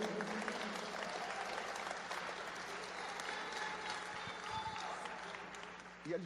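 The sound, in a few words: congregation applauding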